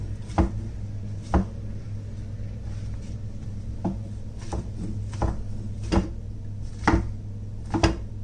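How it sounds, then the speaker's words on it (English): Sharp knife strikes chopping mushrooms on a cutting board, about ten irregular chops close by, with a low steady hum underneath. "I'm going to cut them into 4 and then cut slices of these pieces"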